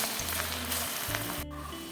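Okra pieces for bhindi kurkure deep-fry in hot oil, a dense, loud, unbroken bubbling sizzle close up throughout, with faint hums beneath.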